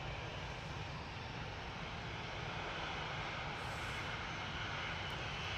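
An easyJet Airbus A320 Classic arriving from Barcelona at Manchester Airport, its steady broadband jet roar filling the whole stretch at a constant level, heard alone with no voices.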